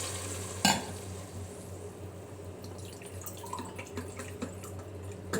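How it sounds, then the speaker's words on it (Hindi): Chicken being fried in a pot gives a steady low sizzle with stirring scrapes and a sharp clatter near the start, and no voices over it. "अब उसको भी अच्छे से भून रही हूँ"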